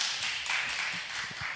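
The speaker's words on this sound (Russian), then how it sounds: "Ваши аплодисменты." Applause from the audience at a poetry evening at a health festival, a dense, steady patter of many hands clapping at moderate distance, filling the short moment without a break.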